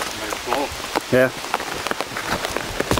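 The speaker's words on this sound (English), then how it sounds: "And it's raining less." Steady patter of rain on a hard surface, close and continuous, with a few brief voiced sounds and clicks mixed in.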